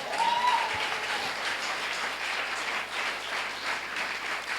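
A church congregation applauds and cheers for the Lord, a steady wash of clapping from a crowd heard at a distance, with no talking over it.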